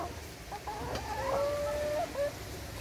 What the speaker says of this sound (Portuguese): Dá oi aí, galinha.